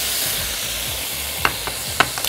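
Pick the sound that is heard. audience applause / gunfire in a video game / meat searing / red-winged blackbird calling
meat searing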